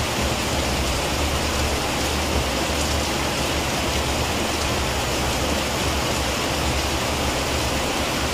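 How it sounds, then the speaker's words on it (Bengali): Rain falls outside a window as a dense, even hiss that never lets up, a broad wash of sound with no distinct drops or voices. "এই বৃষ্টির ওয়েদারে এই জানলার সামনে বসে বসে এখন শুধু বৃষ্টি দেখি"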